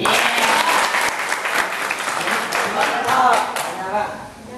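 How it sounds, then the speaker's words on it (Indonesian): Applause from an audience for a young student speaker at a school forum, dense clapping that swells and fades across the stretch, with some voices mixed in. "Tepuk tangan dulu."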